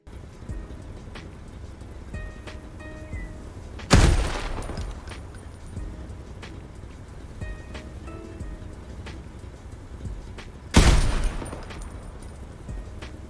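Two gas generator explosions in a survival crafting video game, each a loud sudden blast with a long rumbling decay, set several seconds apart over a low ambient hiss.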